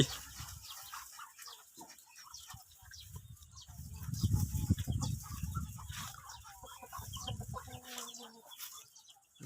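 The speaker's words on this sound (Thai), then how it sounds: "คนให้อาหารไก่" Chickens cluck and chatter steadily while being fed, with a low rumbling bustle building in the middle and faint background noise throughout.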